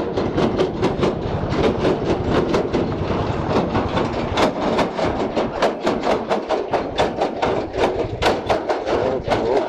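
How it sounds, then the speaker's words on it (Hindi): Loud, steady tractor engine rumble with a rapid rhythmic clatter running throughout, close by and continuous, in Nepal. "कितना शोर कर रहा है ट्रैक्टर"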